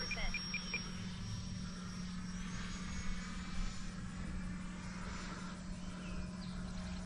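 A Freewing Intruder RC jet with an AvantiS v2 ducted fan and motor runs at about half throttle with gear and flaps down, giving a steady, continuous whir and hum that holds even throughout, with no talking.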